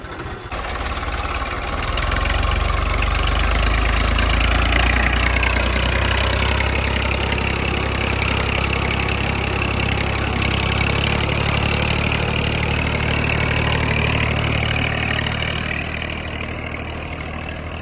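A tractor engine runs steadily and loudly, heard from on board in a farm field, a low throbbing chug that holds for the whole stretch with no talking.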